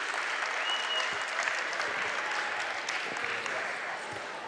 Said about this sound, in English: Little applause for all the middle school wrestlers.